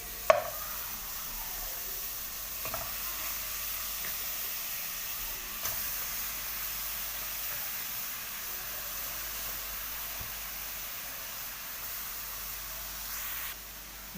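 Strained cow trotters go into a hot pot, giving a faint, steady steaming hiss that lasts throughout, broken by a few soft clicks and knocks, with no voices.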